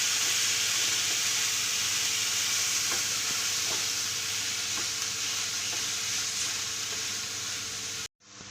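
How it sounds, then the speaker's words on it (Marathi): Cooked moth beans for misal being stirred in a hot pan, a steady close sizzle and hiss with soft scraping strokes of a spoon running throughout. "आता मटकी टाकायची शिजवलेली. ती पण चांगली मिक्स करून घ्यायची."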